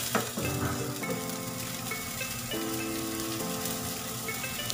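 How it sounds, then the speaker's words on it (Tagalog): Asparagus and mixed vegetables being stir-fried in a pan for a simple sautéed dish, giving a steady close sizzle with light stirring and faint scraping throughout, no talking. "i-mix natin siya ng i-mix, guys, para maghalo yung kanyang lasa doon sa gulay"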